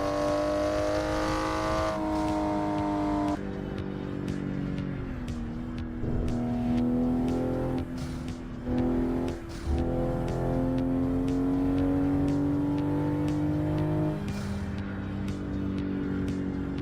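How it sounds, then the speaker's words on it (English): A Toyota Supra MK5 driven in American Truck Simulator, its engine droning loudly and continuously, the pitch climbing and dropping through repeated gear shifts and revs, with no talking. "So I am driving a Toyota Supra MK5."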